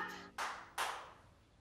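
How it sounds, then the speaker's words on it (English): Two sharp hand claps ring out in a quiet room during a tense hide and seek game in The Conjuring (2013), each followed by a brief fading echo. "Second clap."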